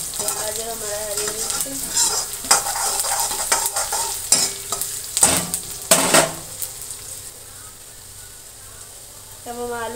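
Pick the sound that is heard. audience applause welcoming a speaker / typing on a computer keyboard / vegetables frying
vegetables frying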